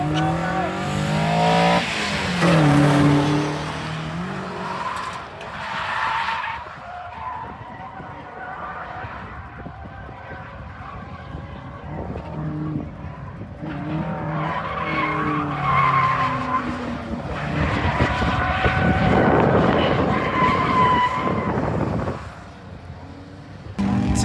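A Nissan 300ZX drifts at a drift event, its tires squealing in long wavering screeches over revving engine bursts, loud and close, with a quiet gap in the middle before a second, longer squeal.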